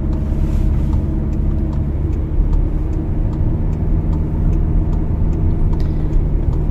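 Car driving along a road during a driving lesson, shifting toward the right lane; steady, loud engine and road rumble continue throughout with no pauses or speech.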